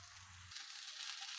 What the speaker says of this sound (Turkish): Köftelerimizi kızartmaya devam ediyoruz.